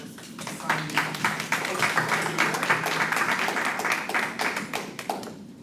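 Steady clapping from several people at a school board meeting as a re-elected member is sworn in, dense and continuous for several seconds at moderate volume with no talk over it.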